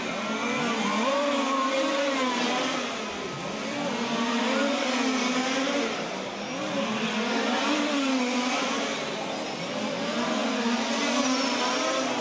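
Large-scale RC touring cars race past the pits at a European championship main final, their high engines whining loudly and continuously, swelling and fading as the pack passes, with no talk.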